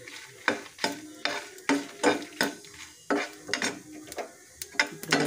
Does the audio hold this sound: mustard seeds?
yes